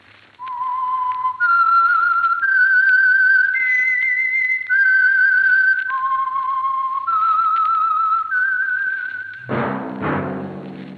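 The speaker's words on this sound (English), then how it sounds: "that whistle is your signal for the Signal Oil Program, The Whistler" A melodic whistled theme signals The Whistler, the Signal Oil radio mystery program: a clear solo whistle stepping through sustained notes in a rising and falling tune. A brief orchestral swell enters at the end.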